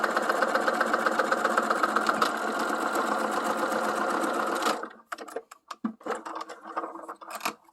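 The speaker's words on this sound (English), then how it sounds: "And then I just stitch across." A sewing machine stitches straight across where a bodice joins the legs, with a tag placed at the centre. It runs as a fast, steady whir for about five seconds, then stops, and quieter fabric handling and rustling follow.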